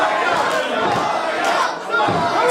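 Crowd at a wrestling event shouting and chanting, loud and continuous, a dense wall of voices filling the hall.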